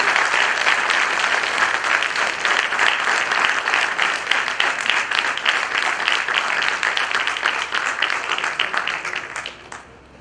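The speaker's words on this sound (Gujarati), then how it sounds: "તો ખરેખર આપણે બધાએ આપણા પોતપોતાના પેરેન્ટ્સ માટે તાળી પાડવી છે." An audience bursts into dense, steady applause honoring their parents, loud and sustained for about nine seconds before tapering off at the end.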